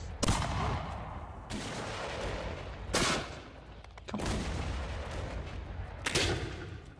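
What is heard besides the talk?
cannon fire in the video game Mount & Blade II: Bannerlord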